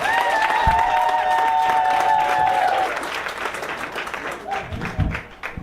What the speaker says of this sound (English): Start clapping right now.